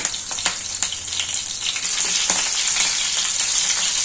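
Slit green chillies frying in a pan of hot oil, a steady close sizzle with scattered sharp pops and crackles, alone with no voices.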